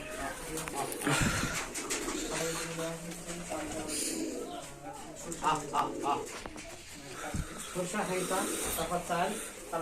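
Pigeons at a long-kept giribaj pigeon loft coo softly in the background while someone talks over them almost throughout.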